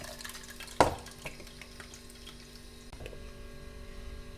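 Blended watermelon juice strained through a sieve at close range: one sharp clank of utensils, then a soft, steady wet trickle and faint scraping with no voices.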